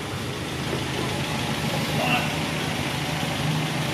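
A 1961 MG A engine idles steadily nearby without throttle, a low continuous rumble with faint background noise throughout.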